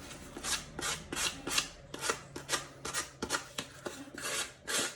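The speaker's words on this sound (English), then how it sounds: "I'm just kind of sanding down on an angle a little bit because this is paper" A foam core shoe covered with paper is sanded by hand at an angle, giving about ten close, rhythmic rasping strokes in steady succession with no talking.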